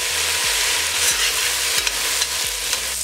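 Nopales and onion frying in a pan with bay leaves, a steady close sizzle broken by repeated scraping and stirring strokes, no voices.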